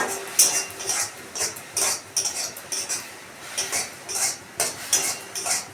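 A spoon scrapes and clinks against a pan while sesame seeds are stirred into hot sugar syrup for a sweet. The close, rhythmic strokes repeat steadily, with no talking.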